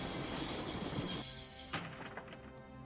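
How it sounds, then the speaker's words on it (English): A train is brought to a halt in the Broken Sword adventure game, with a loud rumbling carriage roar and a high wheel squeal that cut off suddenly, leaving scattered clanks and rattles as it settles, with no talk. "Oh, I'd always wanted to stop a train, and now was my chance."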